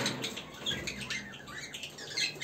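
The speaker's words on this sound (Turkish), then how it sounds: "Bir de burada kuşlarımız var." Pet birds shift and flap their wings inside a cage, a close, steady flutter and rustle with light scratching and faint chirps, no talking.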